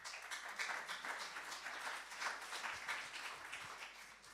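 Congregation applauding during a Sunday church celebration service, a steady sustained wash of many hands clapping at moderate distance, with no speech over it.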